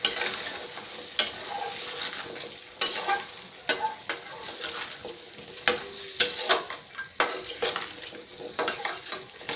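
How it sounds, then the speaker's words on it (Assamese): A spoon stirring mutton curry with potatoes in a pot, a series of irregular scraping clinks against the metal under a faint sizzle, close and moderately loud. "এতিয়া মই ভালছে লৰাই দিম।"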